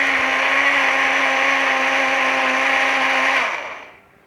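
A kitchen blender whirs steadily and loudly as it blends a banana remedy, running alone for a few seconds before spinning down and stopping.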